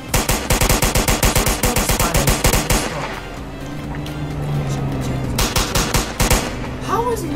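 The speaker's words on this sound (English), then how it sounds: "Where's the shooting coming from?" Rapid automatic gunfire from a Roblox Liberty County game, loud bursts of repeated shots in the first few seconds, then a lull with a steady tone and more shots returning near the end, with no speech.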